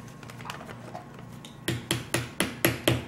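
A small tool taps and chisels at a chunk of clay from a dig-and-build dinosaur kit, six sharp close knocks in a steady run after a stretch of faint scraping.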